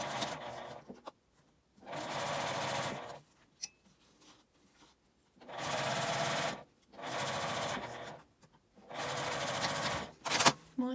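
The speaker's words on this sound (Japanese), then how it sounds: "上から5ミリ開けて端ミシンをかけます。" Sewing machine stitching along the edge of a clear-window key case, four loud bursts of rapid motor-driven stitching separated by quiet pauses, with light handling clicks between runs.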